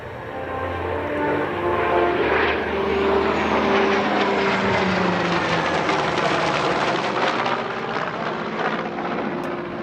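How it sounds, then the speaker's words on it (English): An F4U Corsair and an F/A-18 Super Hornet fly past at the Bremerton Air Show, a loud engine roar swelling in the middle and holding as the aircraft pass, with a propeller drone audible. "The aircraft repositioning for the flat pass."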